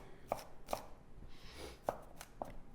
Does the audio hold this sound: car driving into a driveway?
no